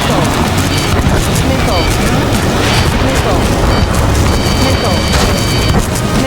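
An AA gun blows up in an Ace Combat 7 air combat mission, a dense rumbling boom amid continuous loud jet and battle noise, with radio chatter voices over the top throughout.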